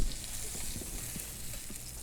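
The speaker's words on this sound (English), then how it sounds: "I'm going to sear the edges." Beef fillet searing with garlic in a hot pan, a steady close sizzle with small crackles and pops throughout, no voices.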